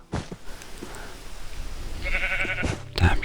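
Sheep in the video game Minecraft bleating, a short nasal bleat rising out of low game background noise, with a few soft thuds around it.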